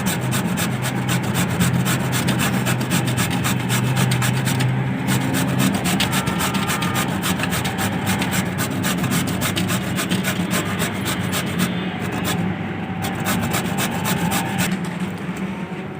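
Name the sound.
grating bottle gourd (lauki) for halwa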